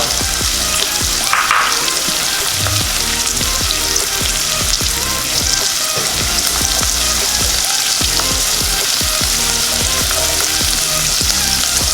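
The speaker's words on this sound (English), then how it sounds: "Then we're adding the garlic, nicely chopped." Chopped garlic and onion sizzle steadily in hot oil in a pan, a loud, dense crackle running the whole time with occasional stirring scrapes and no talk.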